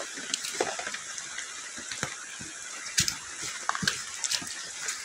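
Water gushes from the outlet of a full irrigation reservoir in a steady, close rush with scattered splashy clicks and spurts over about five seconds, with no voices.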